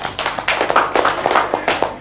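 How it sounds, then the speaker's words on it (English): A class of young children clap together for classmates in a classroom, a loud, steady patter of many hands at close range with no voices over it. "Boys, give them a very big clap."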